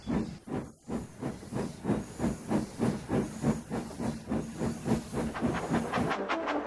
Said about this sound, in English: The passengers did enjoy a ride behind a steam engine.